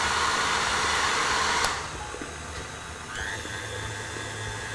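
A hair dryer blows heat onto a mixing bowl of buttercream, a loud steady whoosh that drops in level partway through as the airflow shifts, then carries on alone.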